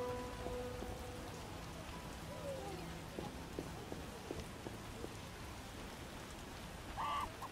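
Rain falls steadily in The Witcher video game, a constant hiss of drops on surfaces, with scattered pattering and a faint chirp near the end.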